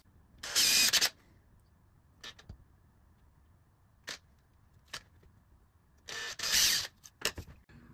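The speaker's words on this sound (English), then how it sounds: "And then I'm gonna attach the plate with these screws." A power screwdriver drives screws to fix a plate onto a router dust collection jig: two strong whirring bursts with a few faint clicks and handling taps between them, in an otherwise quiet room.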